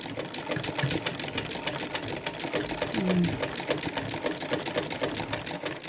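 A household sewing machine runs steadily, its rapid needle clatter repeating evenly as it sews a running stitch around embroidered flowers, with faint speech underneath.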